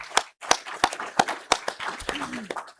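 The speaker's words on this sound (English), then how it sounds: "Let's give everyone a round of applause" A handful of sparse, distinct claps from a small room audience at a tech meetup, spaced irregularly and fairly close, with a voice murmuring among them.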